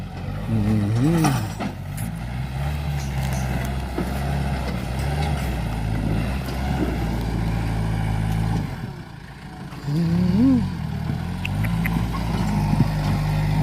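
A machine sucking out soil to repair a washed-out road in rural Thailand: a continuous low engine drone with mechanical rumble, steady throughout, with a couple of brief voices heard over it.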